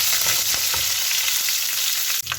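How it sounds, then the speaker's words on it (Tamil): Curry leaves sauté in hot oil for a Tamil prawn curry, giving a steady, close crackling sizzle that runs throughout and cuts off abruptly near the end. "கருவேப்பிலை சேர்த்து நல்லா வதங்கி கொள்வோம்"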